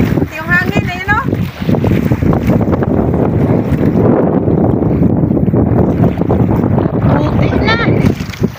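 Strong wind at sea buffets a fishing boat, making a steady, loud roar of wind noise throughout, with brief voices near the start and end.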